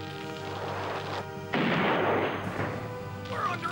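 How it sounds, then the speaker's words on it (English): An old ship's cannon fires in an animated pirate adventure, a single heavy booming blast about a third of the way in that rolls into a long noisy rumble, loud and close, with a further burst near the end. "Fire the cannon!"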